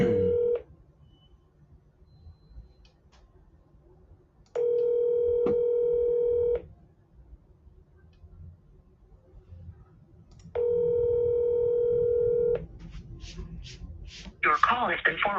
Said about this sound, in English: We're gonna call his cell phone.